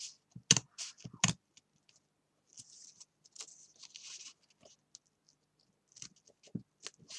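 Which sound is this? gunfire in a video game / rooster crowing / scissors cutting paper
scissors cutting paper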